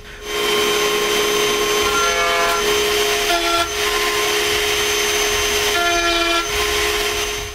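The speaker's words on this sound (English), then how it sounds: "On the router table, I make all the finger joints of the 4 panels." Router on a router table cutting finger joints in wood panels, a loud continuous whine with faint tonal shifts as the bit passes through the stock, close by and without talk.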